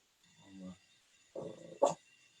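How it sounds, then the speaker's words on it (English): A pet dog close behind the microphone gives a couple of gruff, muffled barks and a short growly yelp against a quiet room hum. "My dog's sitting right behind me barking."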